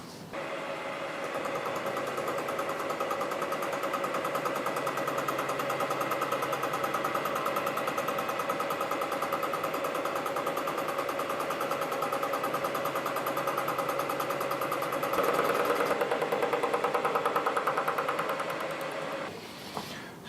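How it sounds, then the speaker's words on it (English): A fly cutter on a lathe at 600 RPM takes a 0.1 deep cut through mill scale on hot rolled steel, giving a steady, fast, buzzing machining drone that grows slightly louder near the end before stopping. "using this fly cutter"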